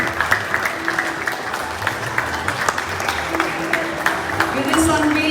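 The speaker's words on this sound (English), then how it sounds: "let's give a round of applause" A crowd claps steadily through a book launch for Wake Up Ali, Wake Up Now in Kathmandu, the applause moderately loud and sustained under a murmur of voices.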